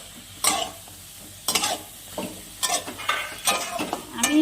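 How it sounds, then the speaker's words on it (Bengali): Drumstick pieces (sajne data) are stirred and sautéed in a hot pan, with intermittent bursts of scraping and sizzling between quieter stretches of low frying, close and alone. "সজনে ডাঁটাগুলো দিয়ে ভালো করে কষিয়ে নিব"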